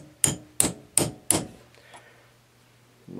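A metal punch struck four times with a hammer on the ignition switch of a 1964 Honda S90 during reassembly: four sharp, evenly spaced metallic taps close to the microphone, followed by quiet.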